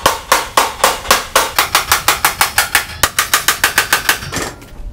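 A hammer strikes a John Deere trailer hitch in a fast, steady run of about twenty loud, close metallic blows that slow and fade near the end, with no talking.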